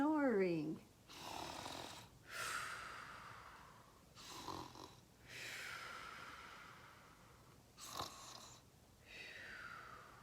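A storyteller's voice imitates snoring with slow, drawn-out breaths and rasping snores, about four of them, spaced several seconds apart. A brief spoken sound comes at the very start.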